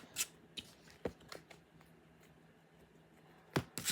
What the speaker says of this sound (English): how I shuffle and hold my cards